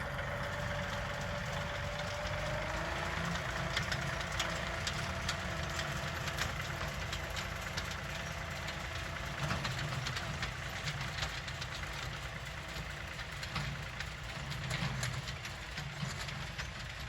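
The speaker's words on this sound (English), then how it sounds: "Man, I love my tractor." A tractor engine drones steadily and continuously at moderate distance while planting a clover cover crop, with a faint rhythmic knocking under the rumble.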